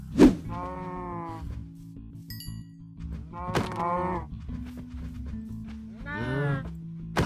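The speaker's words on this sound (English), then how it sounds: "I'm gonna go see if I can find a cow, because I need some leather" Cows in Minecraft moo in long, drawn-out calls, three clear moos spread across several seconds, with other farm animals bleating nearby and a few short game clicks between them.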